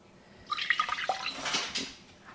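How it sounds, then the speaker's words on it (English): One cup of water pours into a pickling jar holding garlic and hot peppers, a close splashing trickle lasting under two seconds before fading to quiet. "Now I'm going to add in my 1 cup of water"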